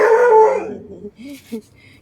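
A dog gives a drawn-out, howling bark up close, fading into a couple of short yips and whines.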